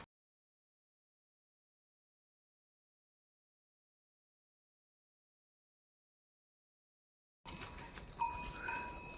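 Bulls grazing in a hill forest with bells clanking at their necks, the irregular ringing arriving only in the last two seconds after a long stretch of silence, fairly near and alone.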